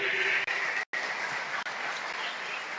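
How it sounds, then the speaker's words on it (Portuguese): Church congregation applauding together at a Baptist service, a steady broadband wash of clapping with two brief dropouts, moderately close and continuous. "vamos aplaudir o nome do Senhor"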